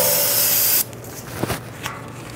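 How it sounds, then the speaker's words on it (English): A steady, loud aerosol spray of solvent hisses for under a second onto residual oil on a 1994-2004 Ford Mustang 3.8L V6, then cuts off, followed by a few soft rubbing and handling noises. "You can go ahead and use some spray solvent,"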